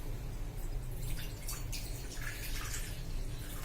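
About 250 ml of water is poured into a container, giving a soft continuous trickle and splash with faint drips. It stays fairly quiet and even throughout, and no one speaks.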